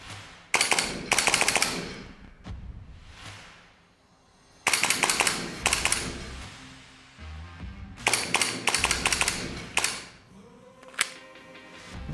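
Three rapid bursts of pistol shots in a timed training drill, about six sharp cracks per burst, loud and close with short pauses between volleys and no talk.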